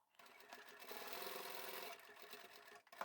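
A sewing machine runs a narrow edge stitch along a folded seam of a small fabric craft tote, a steady close whirring hum that holds for about two seconds and then slows and stops.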